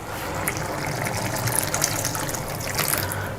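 Water pours and splashes steadily into a pan of cauliflower biryani nearby, a continuous trickling gush with small bubbling spikes.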